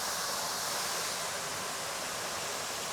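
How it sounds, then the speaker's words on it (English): A waterfall pours just outside a resort room in Bali, a steady, even hiss of rushing water filling the air with no other sounds. "Let me let you listen to this waterfall right outside our room."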